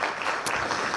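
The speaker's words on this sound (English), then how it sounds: "can we give these guys another round of applause?" Audience applause, a dense continuous clapping wash at moderate volume, steady across the short stretch with no talk over it.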